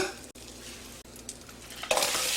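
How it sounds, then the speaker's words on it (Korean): Butter melts in a pan, ahead of cooking shrimp, with a soft steady sizzle and light stirring that swells into a louder, brighter crackle near the end; no one speaks. "버터를 먼저 녹여주시고요"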